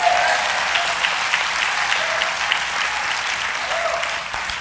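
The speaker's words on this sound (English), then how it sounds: "Clap your hands." A congregation claps hands during a sermon, dense sustained applause filling the room, steady and fairly loud before tapering off slightly at the end.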